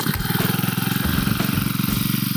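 A cold-started PROCRAFT petrol brush cutter with a four-stroke engine runs at a steady, loud, close-up idle, its throbbing putter pulsing evenly and alone, with no voices.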